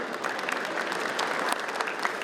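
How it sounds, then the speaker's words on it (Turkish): A crowd at a food festival in Diyarbakır breaks into loud, dense applause, many hands clapping steadily and close, with no voices standing out over it. "Güçlü alkışlarınızı rica ediyorum."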